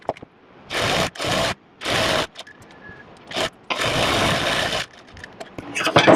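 A sewing machine stitches the side seams of a baby's pajamas in several short bursts of rapid whirring, separated by pauses, with one longer run near the end.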